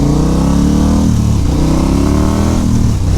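A KTM 1290 Adventure motorcycle under way on the road, its engine droning loud and steady with rising and falling pitch through gear changes, wind roaring over it throughout.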